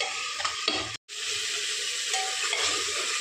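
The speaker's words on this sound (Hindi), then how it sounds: "मसाला हमारा अच्छे से भून रहा है।" Masala spices fry in hot oil for an arbi (taro root) curry, a loud steady sizzle with spoon-stirring scrapes against the pan, briefly cut once, and no voices.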